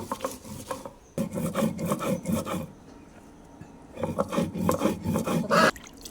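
Dried fish with coriander leaves, salt and chili being ground on a flat grinding stone, a repeated rough rasping and rubbing in two bursts separated by a quieter pause, close and loud with no talk.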